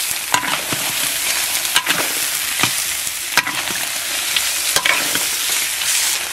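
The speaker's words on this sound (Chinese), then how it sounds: "翻炒均匀。" Soft-shelled turtle stir-fried in a wok with ginger, chili and fried garlic, after a splash of baijiu: a steady loud sizzle with repeated spatula scrapes and clanks at an irregular pace, and no talking.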